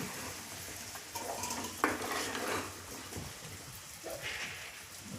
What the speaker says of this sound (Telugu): చికెన్ వేసుకొని మంచిగా కలబెట్టుకోవాలి